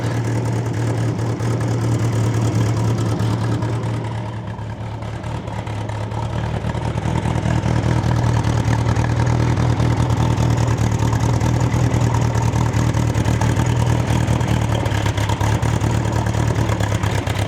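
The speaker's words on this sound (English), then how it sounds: "Boy, does that thing ever run a lot more quiet now. Let's see if it just idles by itself or not." A Bombardier Bombi snow vehicle engine fitted with a Holley Sniper 1100 fuel injection system idles steadily and fairly loud with a deep, even drone, no voices, after a manifold leak repair.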